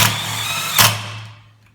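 An Einhell TE-CI 18 Li cordless impact driver runs a panel screw into 1 mm sheet metal with a short, close motor whir that surges briefly partway through, then winds down and fades.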